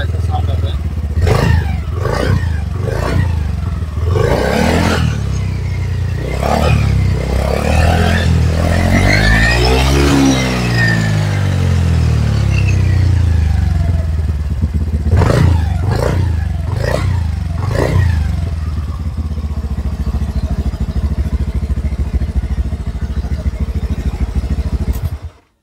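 Honda Dio BS6 scooter with a modified, customised exhaust idles and revs loudly up close, its engine note rising and falling through several throttle blips and one long sweeping rev.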